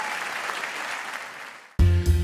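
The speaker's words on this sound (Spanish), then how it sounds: "Un aplauso para ella." Studio audience applause for a guest named Pía Páez on a Spanish-language talk show, a dense burst of clapping that fades and then cuts abruptly into loud music.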